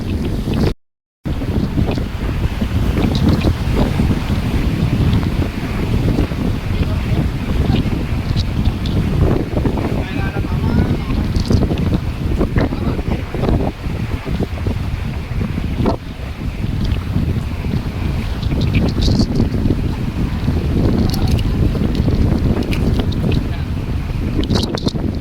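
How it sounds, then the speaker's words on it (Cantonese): Strong wind gusts blowing outdoors beside the water, with loud broadband rumble and buffeting against the microphone running steadily throughout, and faint voices occasionally underneath. "大風"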